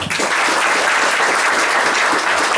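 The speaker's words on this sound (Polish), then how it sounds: "I tutaj również duże brawo dla naszych wokalistów" Steady, loud applause from a theatre audience for the vocalists at a performance in Ryglice, dense clapping sustained throughout with no pauses.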